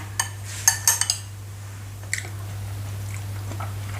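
Tasting wild honeycomb mushroom curry: a few soft spoon clinks against a dish and brief chewing sounds, close and quiet over a steady low hum, with no talking.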